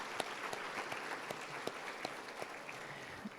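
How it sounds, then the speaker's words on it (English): Faint, distant applause from a conference audience at a real-estate agent summit, clapping for sponsors as a soft continuous patter with scattered sharper claps. "let's give all the sponsors a big round of applause for being here"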